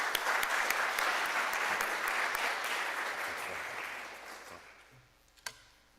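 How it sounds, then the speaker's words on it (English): Sustained applause for Reverend Wilson at a Rotary Club of Oakland meeting, a dense clapping wash that slowly fades out, ending in a few scattered claps and near silence. "let's give Reverend Wilson a big round of applause"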